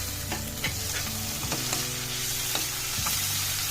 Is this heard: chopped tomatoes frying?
yes